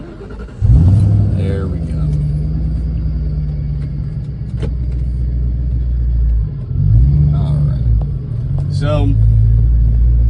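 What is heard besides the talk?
Cobra car engine driving and accelerating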